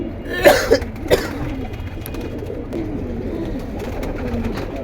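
A King pigeon gives a few short, close, throaty coos early on, then quieter background noise follows.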